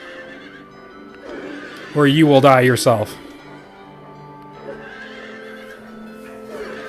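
Monstrous merry-go-round horse creatures from Silent Hill 3 let out a loud, warbling, distorted whinny lasting about a second, rising over game ambience, with someone talking before and after.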